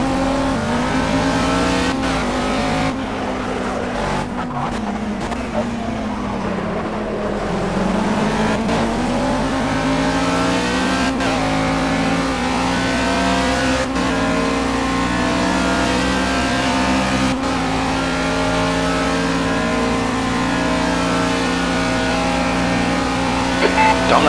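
Race car engines at Bathurst in a racing video game scream at high revs, a loud, continuous drone with rising and falling pitch through gear changes and corners, plus occasional nearby cars passing.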